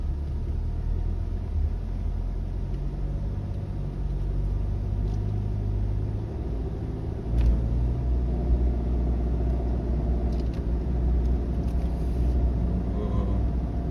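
A car in four-wheel drive grinding along an off-road track, a steady low engine rumble and drone with slight surges, close and continuous, no clear talk.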